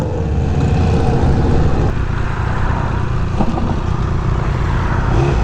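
A Triumph Speed Triple 1200 RR motorcycle in track mode, its engine droning loud and close with rising throttle and a brief dip partway through, accompanied by steady road and wind rush.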